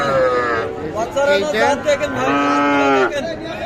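Cattle, including Sahiwal bulls, at a cattle market in Ambari moo in long, drawn-out calls, one after another, loud and close, with crowd chatter and background noise underneath.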